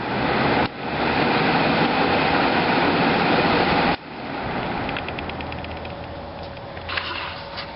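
Lasko Wind Machine floor fan from 2020, trash-picked and serviced, running steadily as a broad, close whoosh of moving air that drops to a softer hum, with light clicks and rattles near the end.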